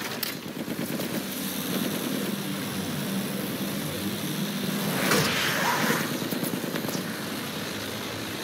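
A propeller aircraft engine drones steadily in Battlefield 1, a continuous buzzing hum that swells briefly toward the middle, with no talk over it.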